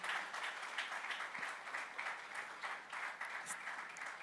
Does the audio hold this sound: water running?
no